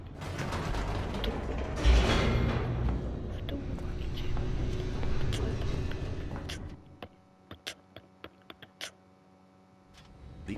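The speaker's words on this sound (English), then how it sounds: "The elevator raced downward," An elevator descending in The Stanley Parable, a loud mechanical rumble with creaking and grinding for several seconds, then stopping, leaving sparse clicks and ticks in near silence.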